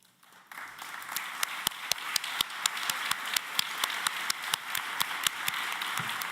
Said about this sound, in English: Will all of you donors please stand up so we may recognize you with a round of applause.